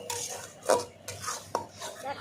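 A spoon stirs pointed gourd peel paste mixed with turmeric and salt in a pan, making three or four soft scraping, clinking strokes at a steady, unhurried pace, close and fairly quiet.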